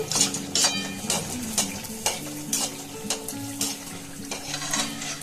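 Milk pua cakes frying in hot oil in a pan, a steady sizzle broken by repeated scraping stirs and light clinks of a utensil against the pan, close up and fairly quiet.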